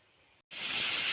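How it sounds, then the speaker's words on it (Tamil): A pressure cooker cooking vegetable pulao lets out a sudden, loud, steady steam whistle that hisses on after a brief pause, close by and continuous to the end. "ஒரு விசில் வந்துடுத்து. இப்போ அடுப்பை ஆஃப் பண்ணிடலாம்."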